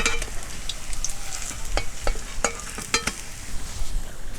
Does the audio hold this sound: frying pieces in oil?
yes